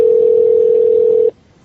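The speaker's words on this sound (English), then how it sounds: "We're hearing ringing." A steady, loud single-pitch tone rings on a call placed to a cell phone, holding for over a second before cutting off abruptly into quiet.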